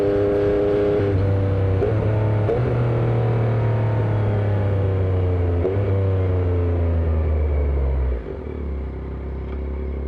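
A Yamaha MT-09 fitted with clip-on handlebars, ridden through several gear changes. The engine note climbs and dips with each shift, loud and close, then settles to a lower rumble near the end.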